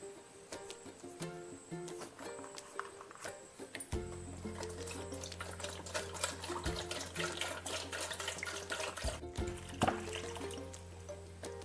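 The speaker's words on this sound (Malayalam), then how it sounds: "ഇതിലേക്ക് ഇത് മുങ്ങിക്കിടക്കുന്ന തരത്തിൽ വെള്ളം ഒഴിക്കാം." Water is poured into a vessel over three mangoes until they are submerged, a steady, close splashing that starts a few seconds in and continues to the end.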